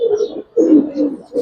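Large pigeon cooing close by in three deep, throaty phrases with short pauses between them, each coo rolling and resonant, alone without talk.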